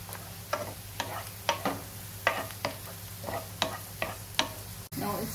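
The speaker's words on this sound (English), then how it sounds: "the ginger is cooking and it's done properly" Ginger frying in a pan on the stove, a steady low sizzle under a series of sharp scraping and stirring strokes against the pan, moderately quiet and close.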